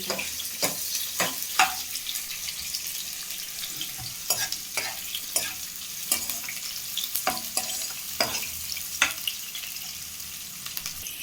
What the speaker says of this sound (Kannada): ಸಾಸಿವೆ ಕಾದ್ಮೇಲೆ ಈರುಳ್ಳಿ, ಒಣಮೆಣಸಿನ್ಕಾಯಿ